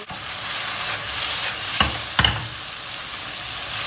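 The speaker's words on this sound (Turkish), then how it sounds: "Salçamızı güzelce bir kavuracağız." Tomato paste fries with eggplant and onion in a pan as a steady low sizzle, broken by two distinct stirring knocks near the middle.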